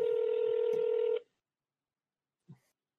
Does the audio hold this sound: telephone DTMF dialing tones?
yes